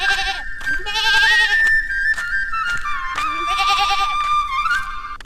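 Several goats bleat loudly and repeatedly in long, wavering calls close by on a farm as they are let out to graze, with short pauses between the cries and no talk.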